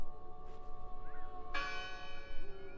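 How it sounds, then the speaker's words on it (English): A church bell rings in the Draugen game, its sustained tone humming before a fresh clear strike sounds partway through and lingers as a ringing decay, with no talk. "The bell's still ringing."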